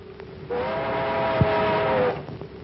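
A streamliner train sound effect from a 1943 radio comedy, a steady rumbling rush swelling in with a sustained whistle tone and a sharp clank midway, then fading out, with no voices.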